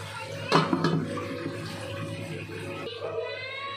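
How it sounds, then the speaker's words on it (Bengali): Water is poured into a cooking pot of simmering turnip for a fish curry, a brief splashing pour over a steady hum, with a voice speaking nearby. "পানিটা দিয়ে দিছি।"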